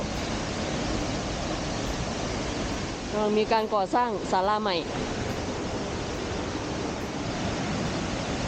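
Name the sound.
waterfall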